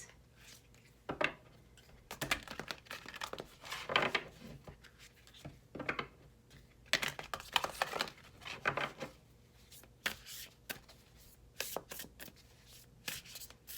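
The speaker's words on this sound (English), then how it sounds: "I'm going to pull another Nature's Whispers card for you, Aquarius." Oracle cards from a Nature's Whispers deck are shuffled and handled, giving close, dry papery riffles and rubs in irregular bursts across the stretch, with quieter gaps between and no talking.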